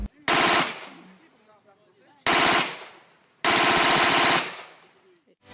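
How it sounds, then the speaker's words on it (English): Bursts of automatic fire from a Brazilian-made submachine gun used by Brazilian Federal Police and Special Forces, recorded at a police shooting session: three loud, close rapid-fire bursts, each cutting off sharply and trailing into a decaying echo. "submachine gun made in Brazil and used by Brazilian Federal Police and Special Forces"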